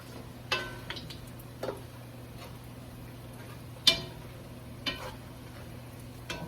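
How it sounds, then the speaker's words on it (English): Onion rings frying in a pot of hot grease give a faint, steady hiss under a low hum, broken by a handful of sharp pops and ticks spaced a second or so apart. "And we're going to fry those until they're golden brown."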